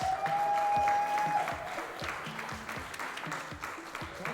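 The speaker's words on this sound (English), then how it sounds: "Let's have a round of applause for Mark Migas!" An audience applauds a third-place winner at the 2023 Classic Tetris World Championship, a steady patter of many hands clapping after a sustained musical tone fades in the first second and a half.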